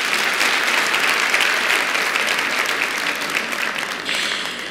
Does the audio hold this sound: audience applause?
yes